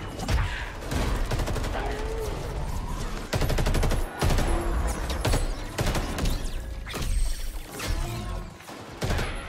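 Enemy gunfire crackles in Halo Infinite, bursts of rapid automatic shots and fusillades rattling close and loud in clustered volleys, with brief mechanical clanks between them and a voice occasionally talking underneath.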